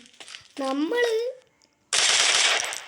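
Rapid machine gun fire in a multiplayer shooting video game. A short tonal sound comes first, followed by a pause, then a loud, dense burst of shots that lasts about a second.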